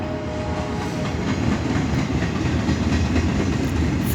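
A freight train rolls past a grade crossing in Folkston, Georgia, with a steady, loud rumble and faint clickety-clack of wagons throughout.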